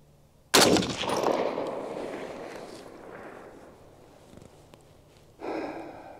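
A Springfield Armory M1A Standard walnut-stocked rifle fires one sharp, loud shot outdoors that rings and decays over several seconds, followed by a second, weaker burst near the end.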